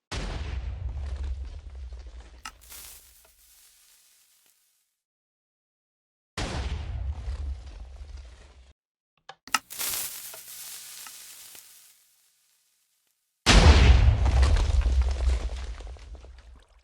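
Several loud, booming TNT blasts in the game Minecraft, each a heavy low burst fading into a crackling tail, arriving in separated bursts with silent gaps between them and a few sharp pops mid-way.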